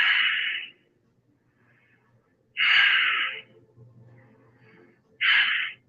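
A person holding a yoga side bend takes three slow, deep breaths. Each is a clear, close rush of air lasting under a second, with quiet pauses between.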